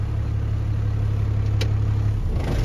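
A truck's diesel engine idles with a steady low rumble, close and loud, then the engine is switched off near the end and the rumble winds down.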